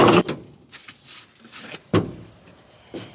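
A Chevy Express van door latch clicks sharply, followed by quieter rattles and a second solid clunk as the door swings open, with a faint knock at the end.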